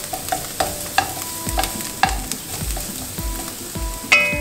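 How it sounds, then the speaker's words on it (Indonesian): Chopped garlic sizzles and fries in a pan for Indonesian fried spring rolls, with a steady crackle broken by repeated sharp knocks and scrapes of a utensil stirring against the pan. "Sekarang kita masukin si bawang-bawangan. Bawang putih dulu masuk."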